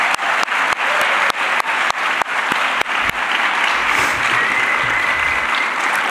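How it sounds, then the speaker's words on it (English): Chapel audience applauding at a Christian college service, a full steady wash of clapping with sharp periodic clicks early on, continuing evenly to the end. "One more time, let's give them a round of applause."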